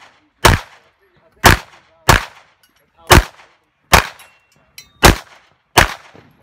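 Gunshots at a USPSA competitive shooting match at a shooting club range: seven loud, sharp single shots spaced about a second apart, each a crisp crack with a short ringing tail, with a few faint metallic pings between them.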